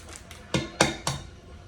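Two eggs are cracked against a mixing bowl in a home kitchen, heard as a few sharp, distinct taps and cracks spaced about a quarter second apart, fairly quiet and close, with no talking.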